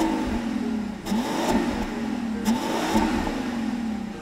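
The engine of a 2019 Rolls-Royce Cullinan, rated at 563 horsepower, accelerates with a smooth, steady mid-pitched hum that climbs and eases through several gentle surges, heard alone without talk.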